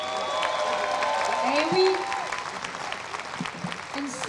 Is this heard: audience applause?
yes